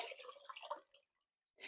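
A wet cloth is wrung out over a basin of hot water while cleaning a natural rubber yoga mat, giving a short, faint spatter of dripping water that quickly trails off into silence.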